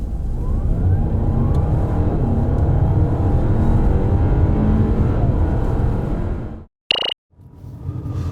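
Audi A6 45 TFSI quattro pulling away hard from standstill, with a loud, steady engine drone and road roar rising through the gears, a brief drop in sound near the end during a shift, then surging again.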